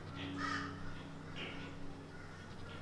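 Near a petting zoo in Australia, a bird gives two hoarse, crow-like caws a second apart, moderately loud, over a steady outdoor background hum.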